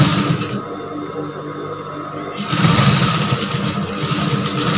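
A sewing machine stitching the shoulder seam of a brocade tunic runs in a steady, loud, continuous whir that grows a little stronger partway through, heard up close with no talking.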